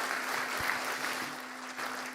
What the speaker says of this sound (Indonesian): Profesor Dr. Megawati Soekarno Putri, kita berikan tepuk tangan yang meriah buat beliau.